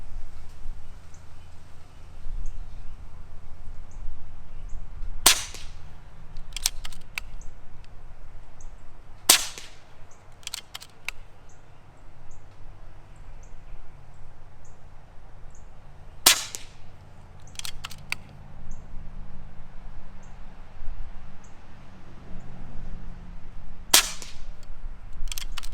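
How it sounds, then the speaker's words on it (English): An R.A.W. HM1000x air rifle fires slugs at a 50-yard target outdoors, producing five sharp, crisp cracks spaced several seconds apart over quiet background hum. "I'll shoot these 5 and see how they do."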